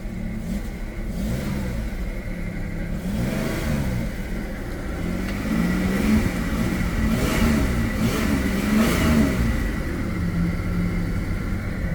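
The V6 engine of a 1993 Dodge Grand Caravan hums steadily from inside the cabin while driving, with a low mid-range drone that swells slightly as it revs, continuous and fairly loud, with no talking.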